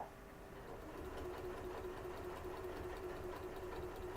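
A sewing machine stitching binding onto a Halloween table runner, its steady mechanical whir and rapid needle rhythm running continuously at close range and fairly quiet.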